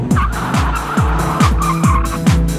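A Dodge Viper V10 sports car revs hard and squeals its tires in repeated bursts, roughly every half second, each rev rising and falling with a loud, close engine growl and shrill rubber scrub.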